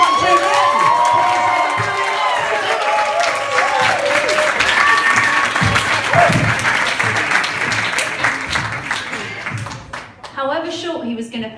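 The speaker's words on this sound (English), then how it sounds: "Are we ready for some applause?" Comedy club audience applauding at a stand-up night, loud sustained clapping mixed with cheers and whoops for most of the stretch, fading as voices talk over the end.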